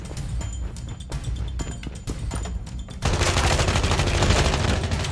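Gunfire from the mobile shooter game Call of Duty Mobile: scattered shots for about three seconds, then a dense, continuous burst of automatic fire fills the rest, loud and close.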